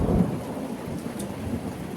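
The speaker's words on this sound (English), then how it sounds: "there's some pretty big lightning. That was sweet. And thunder." Thunder rumbles low and steady through a rainstorm, with rain falling throughout and a slightly stronger swell of rumble near the start; no voices.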